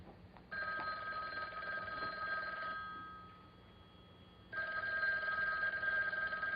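A telephone rings indoors with two bursts of bright electronic trilling separated by a short pause, loud and close, with no talking over it.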